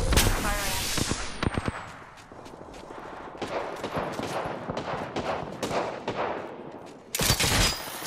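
Gunfire in a first-person video game shooter, with dense volleys of rapid shots and crisp cracks bursting repeatedly over several seconds, some close and loud, others scattered, ending with a sharp high-pitched blast.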